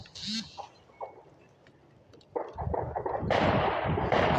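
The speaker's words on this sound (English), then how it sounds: "you could, like, signal people across town if you strategically let off shots like that" Gunshots fired over New Year's in Flint, Michigan, heard from a distance as scattered sharp pops early on, then a dense, sustained barrage building over the last two seconds.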